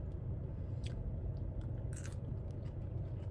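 Fresh fries straight from the fryer being bitten and chewed close up, with a couple of crisp crunches over a steady low background rumble.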